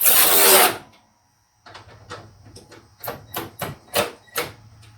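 A Ryobi P344 cordless ratchet is run at varying speed. A loud whir opens, then after a brief pause comes a series of short mechanical bursts and clicks, close and fairly loud.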